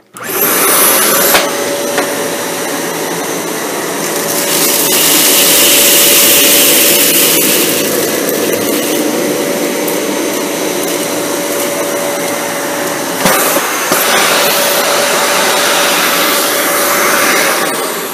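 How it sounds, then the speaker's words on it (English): A Dyson Cinetic Big Ball upright vacuum cleaner runs loud and close with a steady whine and rushing air, its pitch shifting slightly as it moves across the floor. "So let's check out and see how the cinetic does."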